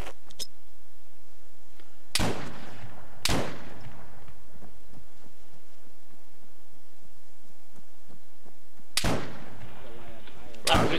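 Grenades thrown and detonating in the military shooter game Arma 3: three sharp, loud blasts spaced apart, two close together early and one later, each a broadband burst over a quiet, low ambient background.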